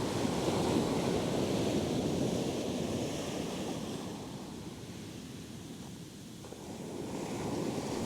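Ocean waves break and wash steadily onto a beach where people are fishing from the shore, a continuous roaring surf with some wind noise, loud and close throughout with no talking.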